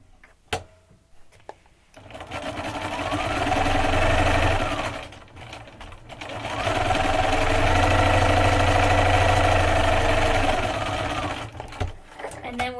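A sewing machine stitches quilt block pieces in two sustained runs of steady mechanical whirring, each several seconds long, separated by brief pauses with small handling clicks.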